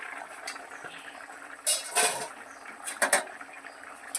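A pot of village-style katla fish curry with taro simmering on the stove as its lid is lifted, giving soft bubbling under a few louder clinks and clatters of the metal lid and pot.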